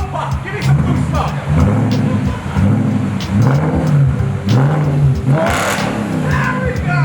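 Subaru STI at an underground car meet, its engine revving hard in repeated bursts with sharp exhaust pops and crackles, loud and close, while people talk and shout nearby.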